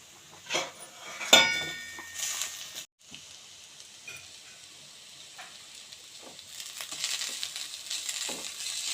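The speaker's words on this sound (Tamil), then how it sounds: "இப்போ நம்ம பச்சை மிளகாய் போட்டுப்போம் கருவேப்பிலை போட்டாச்சு" Green chilies and curry leaves fry in oil in a pan for a carrot egg rice dish, giving a steady hiss punctuated by a sharp clink and a few light stirring knocks, with no talking.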